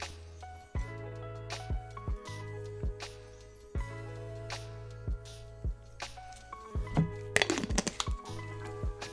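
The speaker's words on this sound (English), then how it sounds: "So I'll give the jar a shake" A jar of folded paper slips is shaken in short bursts, giving a series of dry clicks and rattles over steady background music.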